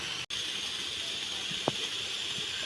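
Steady steam hiss from a puttu steamer cooking Kerala-style rava puttu, a constant close rushing sound with one brief soft tap partway through.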